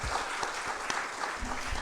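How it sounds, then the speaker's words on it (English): A crowd applauds with dense, continuous clapping, steady and fairly loud throughout. "let's have a thunderous round of applause for Team Infibeam Avenues"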